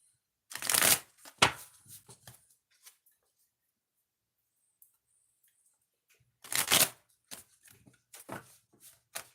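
Two bursts of cards being riffle-shuffled close by, each a quick fluttering rush followed by soft taps as the deck is squared, with a quiet pause between.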